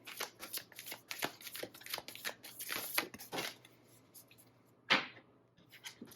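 A Lightworker Oracle deck of cards is shuffled by hand, giving close, rapid bursts of riffling and flicking that repeat for several seconds, then one sharper slap near the end.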